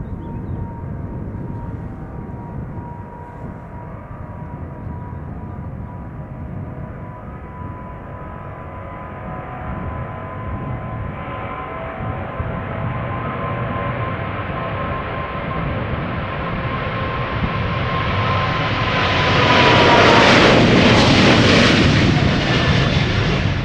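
A KLM Boeing 777-200ER jet departing, its engine roar building steadily from a distant rumble to a loud peak near the end, with no talking.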